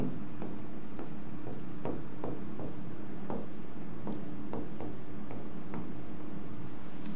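Pen or chalk strokes writing out a math formula during a lesson, a run of short, scratchy taps and strokes in an uneven rhythm, close and moderately quiet, with no talk over them.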